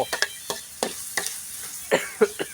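A spatula stirs a Thai spicy bird stir-fry in a pan until the oil dries, making rhythmic scraping clinks at irregular intervals over a faint sizzle, close and fairly quiet.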